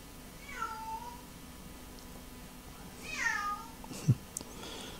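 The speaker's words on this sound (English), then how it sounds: "You hear that? That's my cat." A house cat gives two drawn-out, descending meows about two seconds apart, moderately close and alone over a quiet background, followed by a brief thump.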